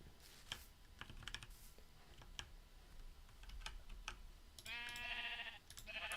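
A sheep in the video game Minecraft gives a short, bright bleat near the end, preceded by steady computer keyboard typing and clicking throughout.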